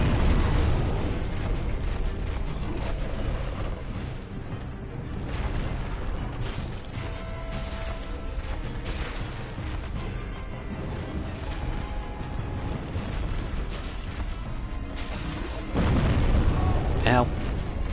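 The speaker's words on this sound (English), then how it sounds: "so he does scary bomb magic" An enemy casting bomb magic in Dark Souls sets off scattered booms and crackling bursts amid clanking mechanical game noise, with a louder blast near the end and a voice talking intermittently over it.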